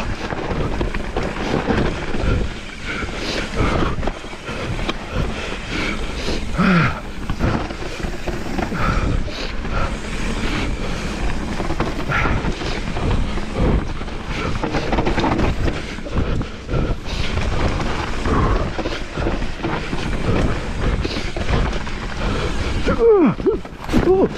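Strong gusting wind at Innerleithen after Storm Arwen roars and buffets the microphone continuously, loud and close throughout with heavy low rumble.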